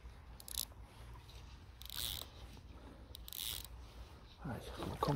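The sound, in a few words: crushing barbs on fishing fly hooks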